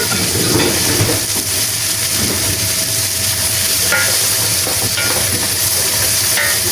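Meat, carrots and vegetables sizzle and crackle steadily while browning in a hot pot for a beer pot roast, a continuous close frying hiss with no one talking.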